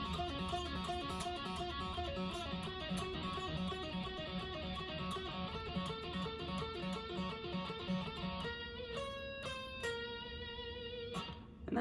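Electric guitar plays a section of the metal remix of a song from Murder Drones, a dense, sustained, melodic line over steady driving backing, loud and continuous, with a few sharp high accents near the end.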